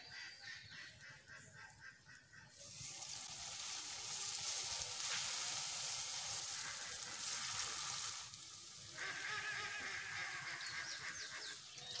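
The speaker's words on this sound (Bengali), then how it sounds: "আমি দুধ পুলি পিঠাগুলো ভেজে নেব।" Palm-flavoured dudh puli pitha frying in hot oil, a steady broadband sizzle that swells loudly after a quieter start and continues with a brief dip near the end.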